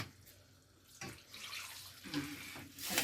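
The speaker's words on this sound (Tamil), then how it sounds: "இது பாருங்கள் நான் கொஞ்சம் தண்ணி கலக்குறேன்" Water splashes and pours in short bursts into a cooking pot, a few gurgling pours over a quiet background.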